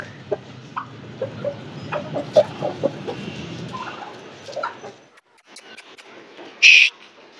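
Chickens in a yard cluck in a low, scattered chorus of short calls, fairly close, fading out midway and followed by a brief louder sharp sound.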